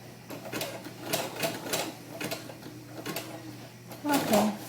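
A sewing machine stitches a bar tack on a doll tunic, a rapid rhythmic clatter in short close bursts with pauses between them, under quiet talk.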